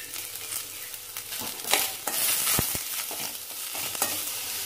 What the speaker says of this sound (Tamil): இதே தேங்காய் துருவல் வெங்காயத்தோடு நம்ம போட்டோம் நல்லா வதங்கிடும்